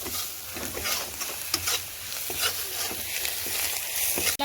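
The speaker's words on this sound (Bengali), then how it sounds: "দেবো একটু লবণ, একটু হলুদ আর একটু কাশ্মীরি লঙ্কার গুঁড়ো দিয়ে আবারও ভালো করে ভেজে নেব।" Frying with salt, turmeric and Kashmiri chili powder gives a dense continuous sizzle with stirring scrapes throughout, close and steady.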